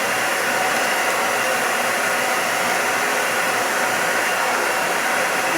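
A TAIFF FOX ion hair dryer blowing hot air on its maximum setting, a loud, steady broadband rushing whoosh with motor hum, continuous and alone for several seconds.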